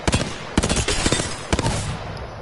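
Hemlok burst rifle in Apex Legends firing rapid three-round bursts, loud and close, with sharp clusters of shots repeating several times alone.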